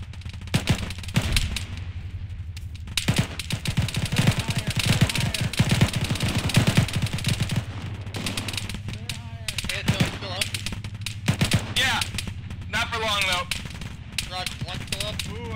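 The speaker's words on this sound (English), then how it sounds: "I'm getting shot at from the north." Sustained machine-gun bursts and scattered rifle shots crackle in a video game firefight while the player is under fire from the north, the rapid volleys continuing loud and close for the whole stretch as voices talk over them.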